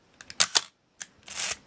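A Chinon SLR camera's metal blade shutter fires in quick, crisp mechanical clicks close up, followed after a short pause by another snappy click and a longer whirring advance.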